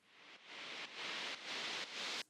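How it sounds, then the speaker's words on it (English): Filtered noise riser in a music track, a hissy sweep rising in four short stepped bursts before stopping abruptly, faint and alone. "So I've got a noise riser here."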